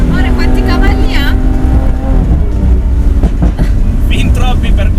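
A Lamborghini Aventador S engine drones loudly and continuously while the car is driven, its road and engine noise filling the cabin as people talk over it.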